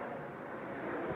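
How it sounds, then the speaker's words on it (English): Jet aircraft passing over a house, a steady, broad rumbling roar that builds slightly toward the end, heard from some distance without talk. "Can you hear the jet?"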